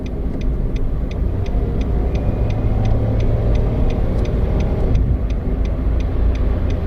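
A remapped Nissan March 1.2 accelerates along a toll road, its steady engine and road drone loud and continuous, with a regular faint ticking running through it.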